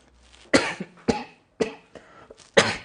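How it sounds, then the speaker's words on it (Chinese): A person with a months-long cough coughing four times at roughly half-second intervals, each a sharp, close burst with a short raspy tail, in an otherwise quiet room. "这咳嗽几个月了，还没好"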